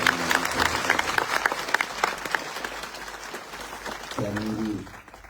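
Audience applause at a village welcome for Manoj Jarange Patil after Maratha reservation, a sustained crowd clapping that gradually fades, with a voice speaking over it near the end.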